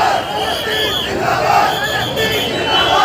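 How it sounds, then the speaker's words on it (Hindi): A large crowd shouts slogans of Nara-e-Takbir and Palestine Zindabad at an event in Delhi, a dense, loud, continuous roar of many voices without pause. "अचानक नाराए तकबीर और फिलिस्तीन जिंदाबाद के नारे लगाए गए।"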